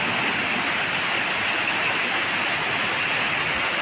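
Pre-monsoon rain pouring in Pune, a dense, continuous hiss that stays loud and unbroken throughout, with no voices.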